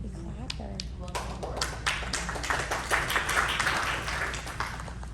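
An audience at a school district board meeting claps after a board appointment vote, a steady patter of applause building over a few seconds, with a voice speaking near the start.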